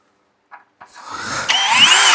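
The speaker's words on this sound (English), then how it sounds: "So it's aluminum real soft. I'm just going to run a pilot hole in." Power drill boring a pilot hole in soft aluminum with a dull bit, starting after a couple of brief blips and then rising into a loud, close, steady grinding whine.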